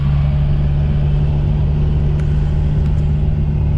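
A Toyota truck swapped to a TDI diesel engine drives along, its steady low engine drone and road rumble holding constant and loud throughout, with faint clicks near the end.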